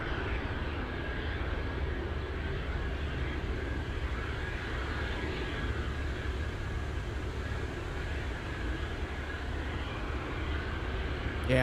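A pair of F-22 Raptor fighter jets flying at Anchorage airport on a windy day, giving a steady, far-off broadband jet roar that holds level throughout with no break.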